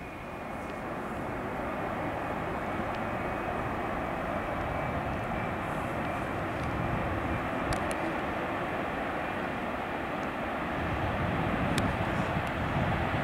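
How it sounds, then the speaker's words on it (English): An airliner taking off from a runway: a broad, steady jet roar held for over ten seconds at moderate distance, swelling slightly toward the end, with no talking over it. "Is that another one taking off, or are they just moving out of the runway?"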